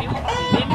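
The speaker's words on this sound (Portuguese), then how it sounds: "E a galinha bonitinha?" A hen gives a short burst of close, loud clucking, a brief cluster of throaty notes.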